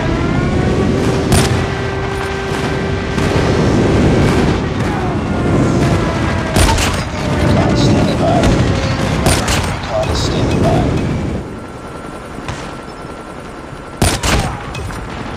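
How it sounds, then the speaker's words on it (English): Airstrike explosions boom during a Call of Duty Mobile multiplayer match, layered over dense rapid gunfire and repeated heavy blasts. The loud, chaotic battle noise runs throughout, thinning slightly toward the end. "Friendly airstrike incoming."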